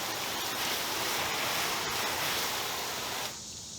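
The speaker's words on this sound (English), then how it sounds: "It's hooked up to the spigot, deionized water flowing through it." Deionized water sprays in a steady broad hiss from a garden hose nozzle hooked to a spigot, close and continuous, then cuts off abruptly near the end.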